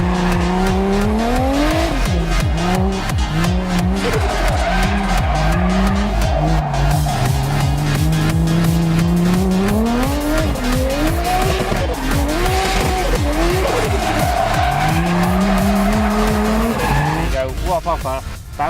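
Drift car at Santa Pod sliding through a long drift in second gear with loud, sustained tire squeal over a rising and falling engine, revs bouncing near the limiter, close and dominant throughout.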